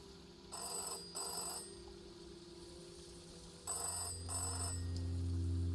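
A telephone rings in the video game SEASON: A letter to the future, two double bursts of bright electric bell ringing separated by a pause, over a low steady hum.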